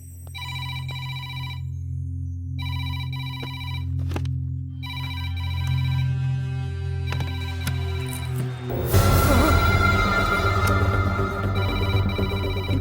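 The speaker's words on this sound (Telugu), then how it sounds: "రింగ్ అవుతుంది కానీ ఎవరు ఎత్తట్లేదురా." A telephone rings in repeated electronic bursts with short gaps, loud and close, then rings on under a sudden swell of dramatic background music.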